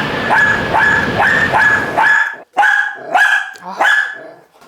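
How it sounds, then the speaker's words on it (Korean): A dog barks over and over at home, its harsh, repeated barks loud and close, with a short break before the barking starts up again. "계속 짖죠?"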